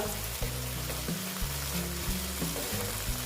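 Hot oil sizzles steadily in a pan while it heats for a boal fish mustard-poppy curry, a close, continuous frying hiss with faint low knocks and no voices.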